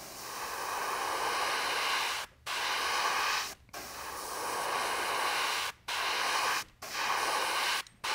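An airbrush sprays opaque white paint lightly over the belly and top of a largemouth bass fishing lure, a steady close hiss broken by several brief pauses.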